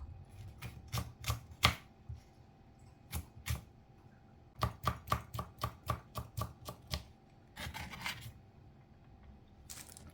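A knife chops callaloo leaves on a board in quick bursts of sharp, crisp taps. One short run comes first, then a longer rhythmic series, then a final quick flurry, all close and clear with no talk.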